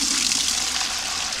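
Water from a basin drains straight down with no whirlpool, a steady rushing, gurgling flow heard close up for a brief moment.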